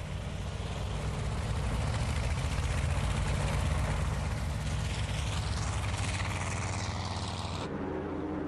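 Torpedo bombers taking off from aircraft carriers at dawn on 7 December 1941, a loud steady drone of aircraft engines and propellers filling the scene throughout, ending in an abrupt cut.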